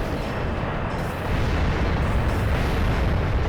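A giant sand vehicle is shot in a Zelda video game, giving a dense, continuous roaring blast of explosive noise that holds loud and steady, swelling slightly after the first second.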